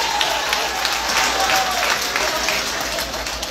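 Applause from a crowd at a church healing event, many hands clapping together in a dense, steady wash that stays loud throughout.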